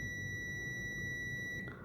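A steady, faint electronic beep from a multimeter continuity test held against the metal body of a mobile phone during a charging-fault repair ground check, sounding as one unbroken tone that cuts off near the end.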